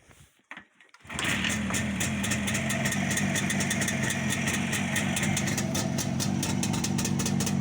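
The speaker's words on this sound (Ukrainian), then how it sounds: "Ось вам синхрон. Робота двигателя." A restored Jawa 360 motorcycle engine starts after a brief rustle, then settles into a steady, rhythmic idle that continues evenly up close.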